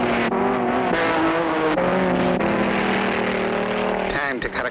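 Cartoon race cars speed down a straightaway in a road race, making a loud, continuous whining engine drone that shifts in pitch and ends with a brief rougher sound.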